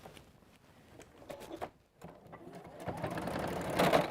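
A sewing machine stitches fabric in short, uneven runs of rapid needle clatter. It stops for a moment, then picks up again, growing louder and denser toward the end, with faint talk in the background.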